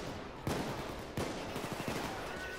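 Teammates shoot in the video game Payday 2, sending out sharp gunshot bursts at moderate distance, a couple of distinct cracks followed by a short run of rapid fire.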